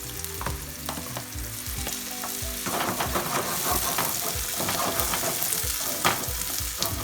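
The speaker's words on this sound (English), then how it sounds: "infuse the oil with the onion and the garlic. Then we're gonna throw the peppers" Onion, garlic and peppers sizzle steadily in hot oil for camarones a la diabla, with a louder, denser crackle after the peppers go in and occasional stirring clatter. No one speaks.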